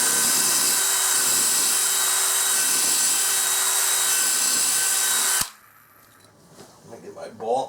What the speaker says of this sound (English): we're just going to drill a 1/4-inch hole pretty deep